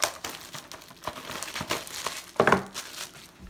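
The foil wrapper of a 2016 Topps Strata baseball card pack is torn and crinkled open up close, with bursts of crackling and a louder rip near the middle.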